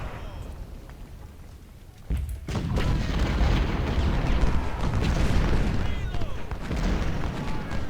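Gunfire and artillery in the game Ultimate General: Civil War, a low rumbling barrage of booms and distant shots that swells after a quieter opening and rolls on continuously under a commander's voice.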